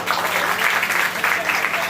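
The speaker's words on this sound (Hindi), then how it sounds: "ऐसी अमित भैया के लिए और सावरिया ग्रुप के लिए एक बार जोरदार ताली दें" Clapping rises at a devotional Bhojpuri bhajan gathering, a dense continuous wash of hands from a crowd, loud and unbroken throughout.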